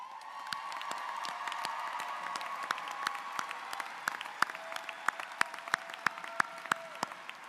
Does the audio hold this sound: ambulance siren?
no